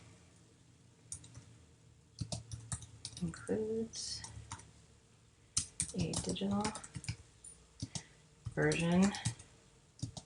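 Computer keyboard typing in bursts of rapid clicking keystrokes, close and clear, interleaved with a person speaking.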